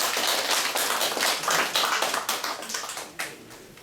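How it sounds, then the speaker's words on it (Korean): A lecture-hall audience at a cultural talk claps to welcome a speaker, a brisk burst of close hand claps that thins out and fades toward the end. "김원순 선생님 박수로 맞이해 주십시오."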